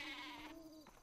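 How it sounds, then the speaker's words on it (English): A single cartoonish sheep bleat from the video game Worms Clan Wars, a wavering tone lasting under a second, close and clear. "The sheep just jumped over you"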